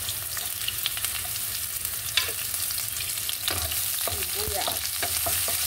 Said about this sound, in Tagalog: magbibisa tayo ng sibuyas